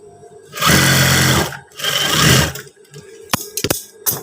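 Sewing machine stitching a pair of long trousers, running in two sustained loud bursts with a short pause between, then a few sharp mechanical clicks and taps.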